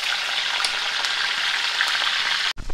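Ground masala paste with curry leaves frying in hot oil, a steady, dense hiss with faint pops, close and continuous, cutting off abruptly near the end.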